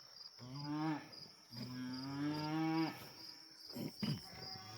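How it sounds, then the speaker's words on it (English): A herd of cows moos in the dark countryside, with several long, drawn-out calls nearby over a steady chorus of insects and crickets. "You got cows behind you even."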